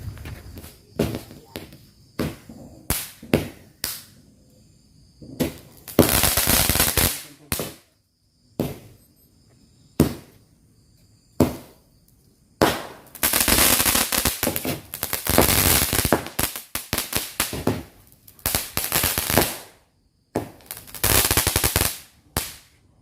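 Cobra cake firecrackers go off in rapid bursts of sharp bangs, some spaced singly and others in dense crackling volleys, loud and close with brief gaps of quiet between them.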